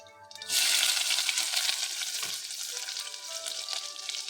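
Chopped onion and ginger drop into hot oil in a pan and burst into a loud, close sizzle that settles into steady frying crackle.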